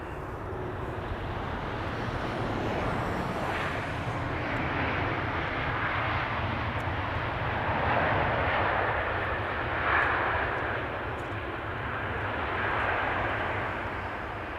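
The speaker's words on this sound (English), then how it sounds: "First United, arriving from New York, JFK. 25-year-old 777-200" A 25-year-old United Boeing 777-200 airliner arrives at Amsterdam Schiphol from New York JFK, its jet engines giving a steady, broad roar that swells gently at times across the whole stretch, with no talk over it.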